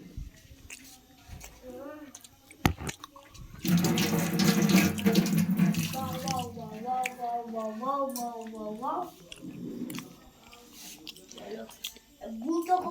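Water gushing from a tap for a cold-water bath, a loud steady splashing burst in the middle of the clip, with people talking before and after it.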